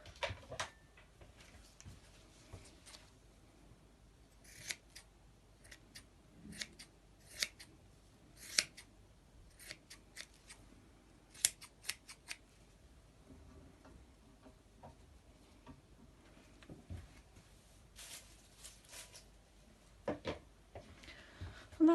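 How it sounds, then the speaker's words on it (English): Scissors snip repeatedly, trimming the cord ends of a macramé plant hanger; sharp, close blade clicks come in irregular bursts against a quiet room with no talking. "And then you would just trim the ends."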